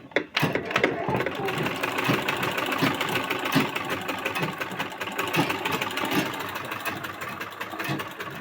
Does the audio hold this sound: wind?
no